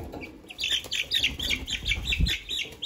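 A few Easter Egger chicks, three weeks old, chirp nearby in a quick series of high, thin peeps. Soft handling noises and low thumps sound underneath.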